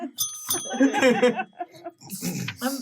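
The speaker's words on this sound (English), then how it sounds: "Ding that bell for yourself." A bicycle-style bell dings once with a bright ring, followed by light chuckling and voices talking close by.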